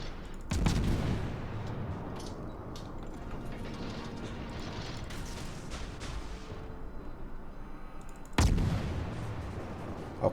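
Naval gunfire in World of Warships, with two heavy broadband booms standing out, one near the start and one around eight and a half seconds, over a steady mechanical rumble and clatter.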